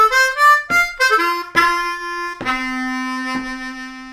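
A blues turnaround on a Bb harmonica, a short run of distinct notes with clear attacks ending on long held tones; close, solo and talk-free.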